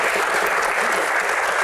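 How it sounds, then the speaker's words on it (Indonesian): A studio audience at a comedy Q&A show claps in a short, dense burst of applause, loud and steady, with no speech over it. "tepuk tangan."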